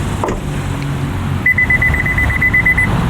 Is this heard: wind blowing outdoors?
no